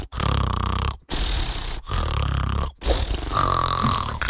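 A cartoon character in a children's TV serial snores loudly, four long, rasping, grunting snores separated by brief silent breaths, close and dominating, with no talk.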